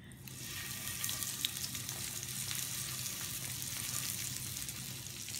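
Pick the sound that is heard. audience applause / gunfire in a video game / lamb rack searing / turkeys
lamb rack searing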